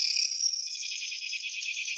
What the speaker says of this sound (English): it's the cicada wing. So the beautiful sound of summer